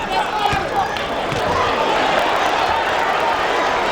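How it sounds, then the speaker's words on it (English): Boxing crowd cheering and roaring for Keith Holmes during a fight against Hacine Cherifi, a steady wash of arena noise throughout, loud and continuous, with a commentator talking over it. "Crowd getting behind Holmes."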